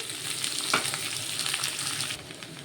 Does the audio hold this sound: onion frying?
yes